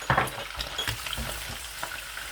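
A tablespoon of garlic paste hits hot oil in a pan and is stirred, giving a close, lively sizzle with scraping and clinking of the spoon, and no talking.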